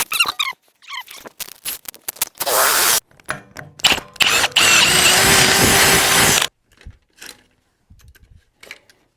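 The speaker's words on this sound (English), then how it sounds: "so I'm just going to drill a couple holes here" Power drill boring a couple of holes for a hinge bolt while fabricating a snowmobile groomer drag, in bursts of a few seconds with squeaky, grinding whine and short pauses between runs, close and loud.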